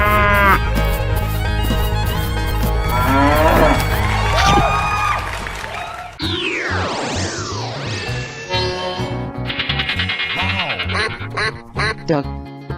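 Cartoonish cow moo among other animal calls like quacks in an animated animal escape-room game, layered over music and sound effects.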